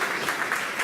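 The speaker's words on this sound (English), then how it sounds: "Just give a quick round of applause." Audience applause at a talk on pitching to investors, a short burst of dense, steady clapping from a room of people.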